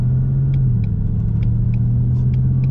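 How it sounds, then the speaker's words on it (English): A car approaching and passing on a street during a driving lesson about turning at a stop, a steady low engine rumble that swells slightly and holds, with faint ticking in the background. "See, we have a car coming."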